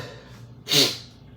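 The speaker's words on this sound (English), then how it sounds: "I gotta sneeze." A single sharp sneeze from one person, close and loud, bursting out after a brief quiet intake of breath, with no talking around it.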